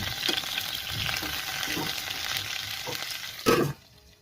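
Jackfruit pieces frying in oil for a vegetable curry give a steady crackling sizzle with a few soft stirring knocks, ending in a louder burst of scraping before the sound drops away.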